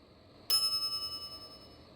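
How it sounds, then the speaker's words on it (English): A service bell on a shop counter in the Monkey Island video game gives one sharp, bright ding that rings on and fades over about a second and a half, heard alone over faint room tone. "some idiot's already ringing that stupid bell"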